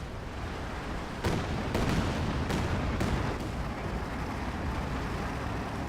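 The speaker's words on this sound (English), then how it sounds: "Ton of artillery support there" Artillery fire in the war video game Company of Heroes 2: several sharp blasts land in quick succession over a continuous rumbling battlefield roar, loud and without speech.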